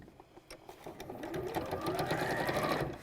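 A sewing machine stitches fabric into a tube, its steady mechanical whirr building from a few starts into a continuous, close, moderately quiet run.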